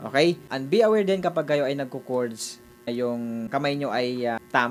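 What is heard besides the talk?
No distinct noise like a dog, phone or traffic.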